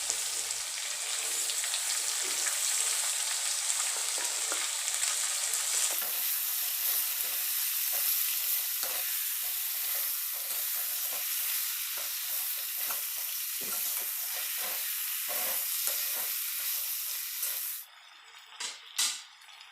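Freshly washed lai shak mustard greens hit a pan of frying meat, making a loud, continuous sizzle with stirring scrapes that suddenly fades near the end, leaving a few clatters.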